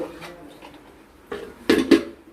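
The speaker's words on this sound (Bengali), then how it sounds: "ঢাকনা দিয়ে আমরা ঢেকে দিলাম" A lid set over a pot of Bengali katla fish curry in mustard-poppy sauce, a few soft metallic clanks close by, the last two louder and quickly repeated.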